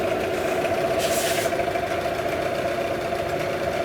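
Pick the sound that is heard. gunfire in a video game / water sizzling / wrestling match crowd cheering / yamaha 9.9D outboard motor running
yamaha 9.9D outboard motor running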